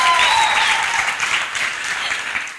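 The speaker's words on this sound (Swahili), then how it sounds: "Wapi makofi ya Albitech tafadhali?" An audience at a live entertainment show gives Albitech a burst of applause, loud at first and then slowly thinning out, with a faint voice briefly audible near the start.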